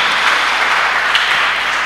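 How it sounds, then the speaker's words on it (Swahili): A church congregation at a morning worship service applauds loudly and continuously, a dense steady wash of clapping with no gaps. "Alafu mpigie Yesu makofi mazuri"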